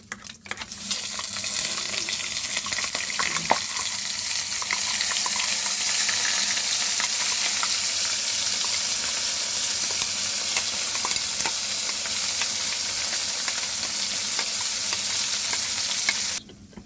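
Ground spice paste of pre-fried masala hits hot oil for Bengali chicken kosha, setting off a loud, steady sizzle that runs unbroken for about fifteen seconds, with faint stirring clicks underneath and no talking.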